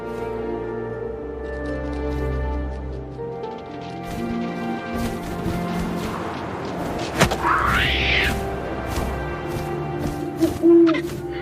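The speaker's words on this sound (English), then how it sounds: "And suddenly, I was an owl." Owl hooting in the video game What Remains of Edith Finch, a soft hoot rising over a low wind-like ambient drone and deep game music, with a few dull thumps.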